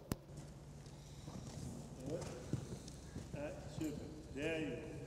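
Horse hooves clip-clopping at a canter around a riding arena during a masterclass lesson, a steady rhythmic beat under an instructor's continuous coaching voice.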